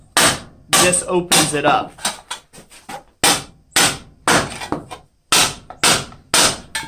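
Scrap copper hammered on the horn of a blacksmith's anvil, loud close ringing blows in a quick uneven series with brief pauses, mixed with someone speaking briefly.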